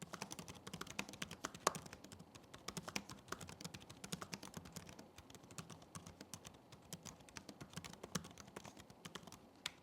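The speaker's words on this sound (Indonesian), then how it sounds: "coba kasih contoh suara feedback dari keyboard HP Pavilion Aero" Steady, rapid keystrokes on an HP Pavilion Aero 13-be0002AU laptop keyboard, soft clicky taps in an irregular typing rhythm, close and fairly quiet, with no voices.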